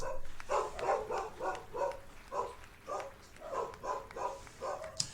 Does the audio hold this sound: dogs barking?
yes